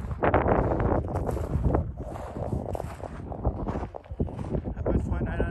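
Wind gusts buffet the microphone on the lava slopes of Teide volcano, a loud continuous roar with rumbling low-end surges across the whole stretch, and a voice speaks intermittently beneath it.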